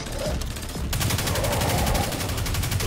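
Rapid gunfire in the Destiny 2 video game, a dense burst of repeated shots at close range that runs steadily through the whole clip after a brief quieter start.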